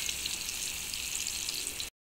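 Dry red chilies fry in a hot pan for a curry, giving a dense, steady sizzle that crackles close up and then cuts off abruptly.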